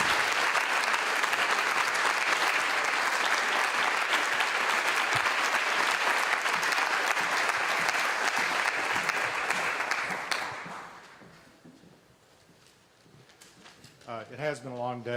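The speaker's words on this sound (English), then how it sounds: "let's give a round of applause to our guests" An audience applauds guests at the close of a community progress report event, with sustained dense clapping for about ten seconds before it fades out and a voice begins to speak.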